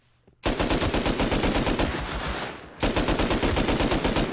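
An AK rifle fires in the video game Rust in two long, rapid automatic bursts, loud and close, with a short pause between them.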